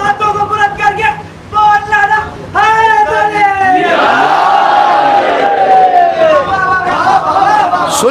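A crowd chanting slogans in unison with a strong repeated rhythm, loud and reverberant, with the voices rising into a long drawn-out collective shout in the middle.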